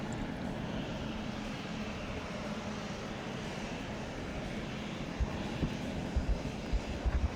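Steady propeller aircraft engine drone in a combat flight game, an unbroken even hum throughout with a few faint clicks near the end.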